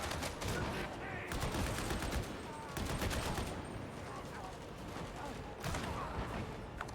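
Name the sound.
gunfire in a video game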